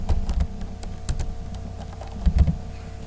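Keys clack on a computer keyboard in short irregular bursts of typing, close and fairly quiet, with a faint hum underneath.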